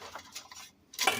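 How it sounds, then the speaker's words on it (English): Spoon stirring pork bone soup with chayote and turnip in a pot, a few quick scraping clinks against the metal followed by a brighter knock at the end. "Now I'm gonna stir a little bit"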